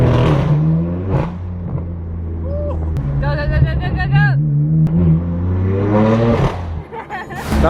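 A straight-piped BMW M4 F82 drives on the road, its loud exhaust revving and shifting in bursts, with people talking over the engine.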